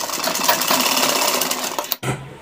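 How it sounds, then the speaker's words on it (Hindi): A sewing machine stitches a kurta collar in a steady, fast close-up whirring run that stops abruptly, followed by a brief low thump. "एक पैर की सिलाई लगा देते हैं यहाँ पर"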